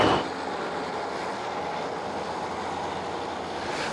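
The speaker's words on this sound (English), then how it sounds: "This is where this train terminates." Train standing at Clitheroe station on the Ribble Valley Line where the service terminates, a steady broadband rumble and hum throughout, fairly loud and continuous, with no voices.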